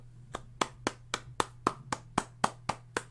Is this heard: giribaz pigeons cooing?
no